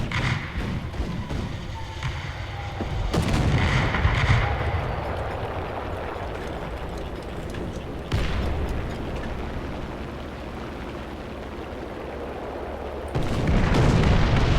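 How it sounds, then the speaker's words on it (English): Artillery fire in a World War II flight combat video game, heard as loud, booming bursts that start abruptly around three seconds in, again near eight seconds and at thirteen seconds, each followed by a sustained rumbling roar with no talk. "So I thought I'd throw artillery. Roger that, confirming fire."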